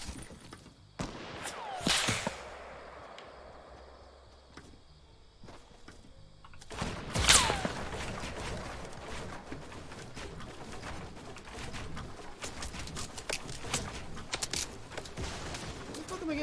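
Gunfire in a shooter video game, a few sharp distant shots at the start, then a louder burst near 7 s followed by scattered crackling shots over a low background.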